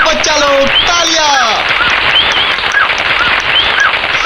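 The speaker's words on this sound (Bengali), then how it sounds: "তালিয়া তালিয়া বাচ্চালো তালিয়া" Cartoon children applaud a magic trick with a sustained wash of clapping, loud and continuous, while a voice speaks over the start.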